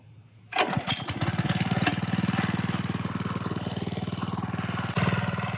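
A core aerator's small engine is pull-started, coughing to life after a brief quiet moment, then settles into a loud, steady, rapid putter close by.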